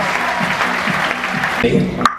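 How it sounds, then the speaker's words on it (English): A cruise ship audience applauds at a hypnotist's stage show, a steady wash of clapping under a talking voice that ends abruptly. "Give them all a big round of applause."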